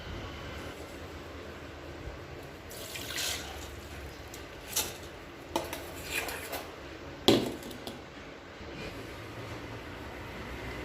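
Soaked rice is drained of its water, with a faint wash of trickling and a few scattered clunks and knocks of a vessel, quiet and intermittent.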